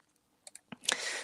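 A few quick keystrokes on a computer keyboard while a URL is typed, sparse clicks followed by a denser burst of brighter key clatter, close and quiet with no voices.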